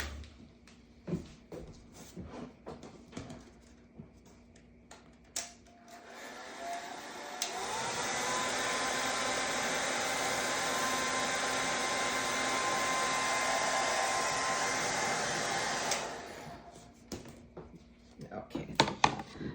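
A hair dryer drying wet watercolour paint roars loudly and steadily for several seconds, with talking and small clicks before it switches on and after it cuts off.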